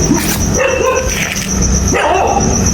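Dogs barking at night near an abandoned school, a few yips and barks rising over a steady droning background, moderately distant and without speech.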